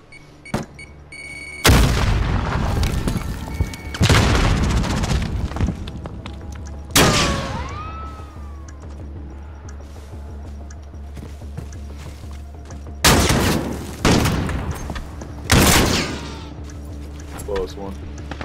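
Shotgun blasts from Call of Duty: Modern Warfare ring out as several loud, sharp booms spaced seconds apart, each with a ringing tail, over the constant low hum of the game.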